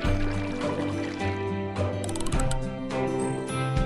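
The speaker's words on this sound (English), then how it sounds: "Just tilt the screen to pour." Drink poured into a glass in the Strawberry Shortcake Sweet Shop game, a soft liquid pour effect running under cheerful background music.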